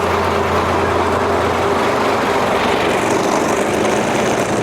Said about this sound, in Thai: ขนาดเครื่องยนต์ไม่มีหอนแล้วไม่ต้องเร่งเครื่องด้วยนะครับ